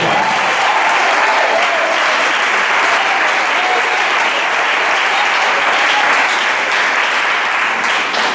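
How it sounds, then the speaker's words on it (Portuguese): A church congregation claps hands in praise, a loud, dense and continuous wall of clapping from many people that holds steady from start to finish. "E louve ao Senhor com as suas palmas."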